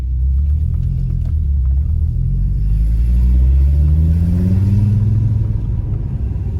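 A Volkswagen Golf Mk4 VR5 with a Sportex exhaust revs loudly up close, its deep exhaust rumble rising and falling in pitch over several seconds with no talking.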